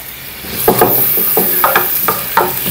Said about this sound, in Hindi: एक छोटे साइज़ का प्याज है, उसको हम थोड़ा सा फ्राई करेंगे